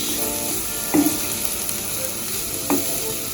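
Onions and pepper fry in a hot pan for escovitch fish, sizzling steadily and close, with two louder stirring scrapes rising out of the hiss.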